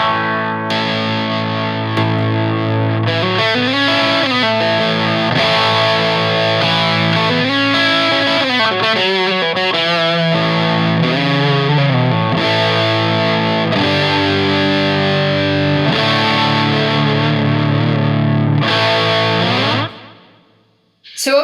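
Electric guitar played through a PRS Horsemeat overdrive and a Mary Cries compressor, giving a loud, distorted and sustained tone with chorus-like shimmer across a continuous riff of chords and bends before cutting off abruptly.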